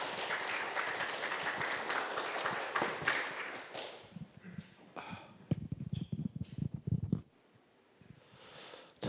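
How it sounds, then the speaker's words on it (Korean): A seminar audience at the 20th World Korean Business Convention applauds to welcome a Chonnam National University professor: about four seconds of dense, steady clapping filling the hall, then scattered claps and a voice as it dies away. "큰 박수로 맞으시면 대단히 감사하겠습니다"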